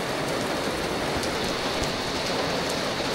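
Steady rain pouring down, a dense continuous hiss with scattered drops tapping on surfaces, no voices.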